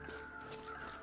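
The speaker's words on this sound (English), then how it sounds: "I hear more crows somewhere besides these ones." Crows cawing in the snowy wilderness of the survival game The Long Dark, faint harsh calls repeating over a soft ambient wind bed.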